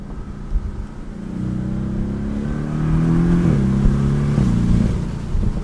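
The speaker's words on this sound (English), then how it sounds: "It's such an aggressive sound from that 4-cylinder." Turbocharged flat four-cylinder of a 2017 Porsche 718 Boxster S revving with the top up, a steady engine drone rising in pitch through several climbing tones before settling, heard from inside the cabin without talk.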